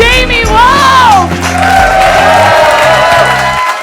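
At a stand-up comedy club, an audience bursts into sustained clapping mixed with cheers and whoops, loud and close for several seconds before easing off.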